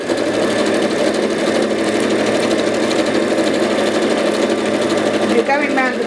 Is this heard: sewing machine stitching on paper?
yes